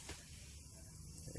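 Continuous loud hiss and rattle of a pneumatic impact gun with a swivel fitting running on a 21 mm suspension bolt of a Mercedes C-Class lower control arm, steady throughout at close range with no talk.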